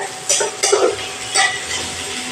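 A husband cooking in a pan at home, a utensil stirring and scraping with several soft clinks and rustles, close and fairly loud, with no talk.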